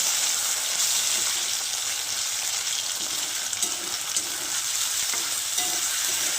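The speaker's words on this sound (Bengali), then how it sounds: "তো দেখো বন্ধুরা, মাশরুমগুলো ভাজা হয়ে গেছে" Mushrooms fry in oil in a pan over high gas heat, giving a steady close sizzle and crackle with occasional stirring scrapes, continuous throughout with no talking.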